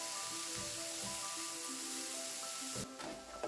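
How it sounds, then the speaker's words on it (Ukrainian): Chopped onion and grated carrot frying in vegetable oil, giving a faint, steady hiss and crackle of sizzling throughout, with a brief louder rustle near the end. "Смажимо на рослинній олії до готовності."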